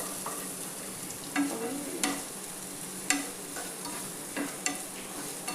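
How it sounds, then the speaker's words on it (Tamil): Garlic frying in coconut oil for an egg podimas, a steady low sizzle broken by a few sharp stirring clicks and scrapes of a spatula against the pan. "உள்ளி நல்லா வறுபடணும், அது வரைக்கும் நல்லா வறுத்துக்கோங்க"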